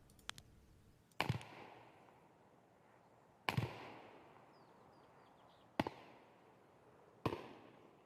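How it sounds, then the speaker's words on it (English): Four separate shotgun blasts in the video game Escape from Tarkov crack out at uneven intervals, each a sharp, moderately distant report trailing a rumbling echo, with quiet ambience between. "It's shotguns. That's a shotgun."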